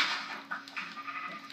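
A sheep in a video game gives a short wavering bleat, loud and near, running over about a second and a half alone.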